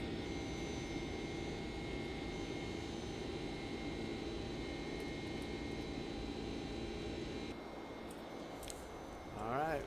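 Flight Factor 767-300 airliner climbing in X-Plane 11, a steady broad jet engine roar with a constant cockpit hum, dipping slightly near the end as a faint rising tone appears.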